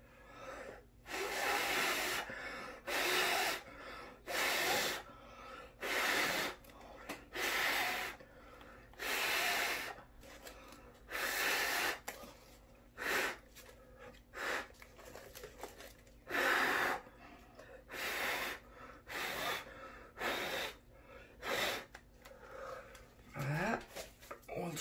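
Heavy, rhythmic breaths puff close to the microphone during an acrylic pour painting session, one strong burst roughly every second or two for the whole stretch, loud and breathy with short quiet gaps between them.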